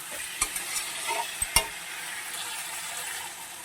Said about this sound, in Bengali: এরপর আমি পটলগুলোকেও দিয়ে দেব এক মিনিট ধরে ভালোভাবে কষিয়ে নেব